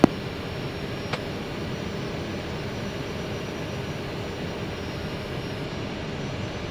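Airbus jet airliner on early-morning final approach to London Heathrow runway 09L, a steady broadband engine roar with low rumble that holds evenly throughout, heard from inside or close by, alone with no talk.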